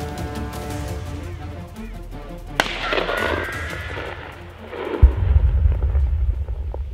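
A rifle shot is fired at a wild boar in a wheat field during a hunt. A single sharp crack rings out, followed a few seconds later by a heavier thud over a steady outdoor rumble.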